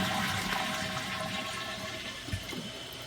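A household toilet, fitted to use less water, flushes with a loud rushing surge that gradually eases into a steadier refill gurgle, heard up close and on its own.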